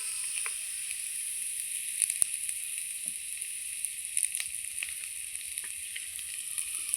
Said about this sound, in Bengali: লবণ দিয়ে দিচ্ছি একটু বন্ধুরা বেগুন ভাজায়।